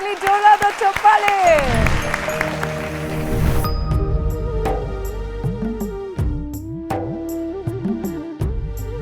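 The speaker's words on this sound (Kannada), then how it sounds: "ಬರ್ಲಿ ಜೋರಾದ ಚಪ್ಪಾಳೆ" Audience applause at a televised singing reality show, a loud dense wash of clapping over music that fades after a few seconds as the band and sung melody carry on.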